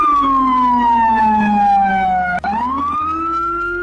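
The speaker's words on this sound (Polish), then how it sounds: "Ale głośna jest ta straż pożarna, ty." A loud fire engine siren in a Roblox driving game wails close by, its pitch sliding down then back up, over the hum of a vehicle engine.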